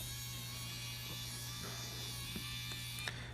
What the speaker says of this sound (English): This stick is a rechargeable screwdriver designed specifically for smartphone repair